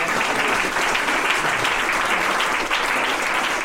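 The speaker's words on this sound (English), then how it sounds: "Let's give him a round of applause." A crowd bursts into loud, sustained applause, a thick wash of clapping that holds at an even level from start to finish.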